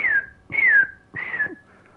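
A person whistles three sliding notes in a short tune, each a clear, clean tone gliding downward, heard close and alone with brief pauses between them.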